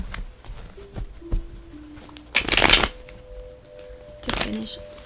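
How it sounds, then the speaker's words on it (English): A deck of tarot-style reading cards is shuffled in two quick, close riffling bursts. Quieter handling clicks and taps come between them. "let's get one more card from this other deck for you guys"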